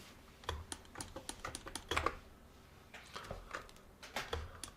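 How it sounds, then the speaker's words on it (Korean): Rapid, irregular tapping and clicking of a Huion 680TF tablet pen on the tablet surface, close and fairly quiet, continuing in uneven bursts. "펜 돌아가는 소리죠."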